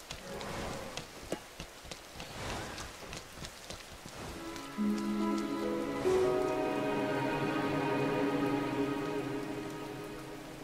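Steady rain falls in the video game Rain, a soft patter of drops on surfaces that thickens into a continuous wash as a sustained musical score swells in beneath it.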